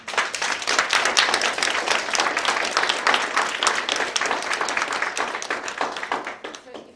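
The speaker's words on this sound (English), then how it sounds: "And just applause for all of you." Participants in an African mentorship program are applauded by a gathered audience, brisk and dense clapping from many hands that holds steady for several seconds before tapering off at the end.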